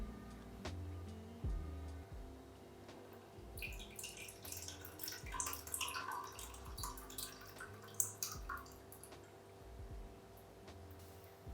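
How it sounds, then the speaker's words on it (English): Clarified coffee dripping slowly through a coffee filter, with soft, irregular drips and a trickle that stands out in the middle, quiet and close over a low background hum. "And let it drip through slowly."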